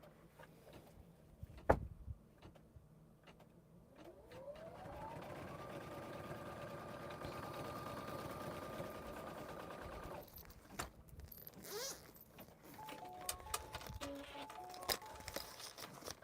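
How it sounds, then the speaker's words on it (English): A sewing machine stitches a label placement line on a wallet, a faint steady whir that lasts about six seconds and then stops, followed by quiet handling clicks. "I'm just gonna put my presser foot down and tell it to stitch"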